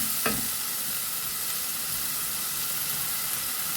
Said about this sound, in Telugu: ఇది కొంచెం మగ్గాలండి, బాగా అల్లం వెల్లిపాయ పేస్ట్ బాగా మగ్గాల.